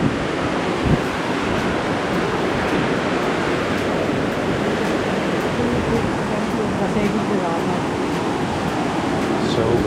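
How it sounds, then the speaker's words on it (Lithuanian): Water runs and rushes beside the sea on a cold Danish shore, a steady, loud wash of broadband noise mixed with gusty wind buffeting the microphone, continuous for the whole stretch. "Žiūrėk, kaip bėga vanduo."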